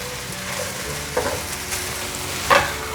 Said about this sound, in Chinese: 我大约又在拌炒了1分钟左右